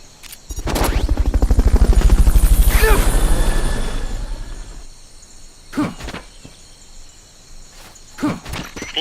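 Helicopter during a Fulton recovery in Metal Gear Solid: Peace Walker, a loud rhythmic rotor chop swelling then fading away over several seconds, followed by quieter scattered clicks and thumps.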